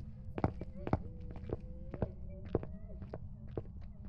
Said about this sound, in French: il y a des bruits de pas constants